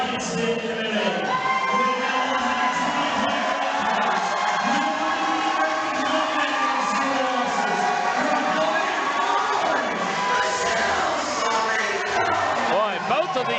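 A packed arena crowd roars steadily through an amateur women's MMA bout, with a dense wall of shouting and cheering that never drops and close, loud voices mixed in.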